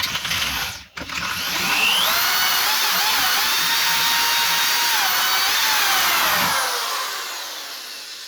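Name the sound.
power drill drilling a hole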